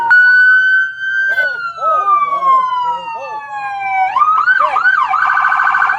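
A police siren wails loudly and close, its pitch sweeping down slowly before switching to a rapid warbling yelp.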